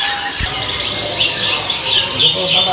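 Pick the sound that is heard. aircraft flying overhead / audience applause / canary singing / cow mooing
canary singing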